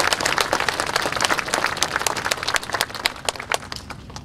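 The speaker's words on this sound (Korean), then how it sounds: "박수 한번 크게 보내주십시오" A crowd applauds at the opening ceremony of an expressway, the Pyeongtaek–Siheung section of the Second Seohaean Expressway, with steady, moderately distant clapping that continues throughout.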